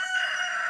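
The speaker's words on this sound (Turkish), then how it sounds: "Tavuk." A rooster crows in the Stardew Valley farming game, one brief, bright, loud call heard alone and close.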